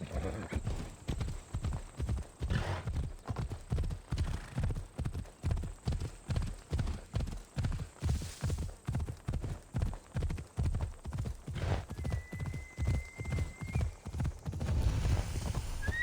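Phobos the horse gallops in Assassin's Creed Odyssey with steady, rhythmic hoofbeats held close and even for the whole stretch, a short whinny in the middle and soft game ambience beneath.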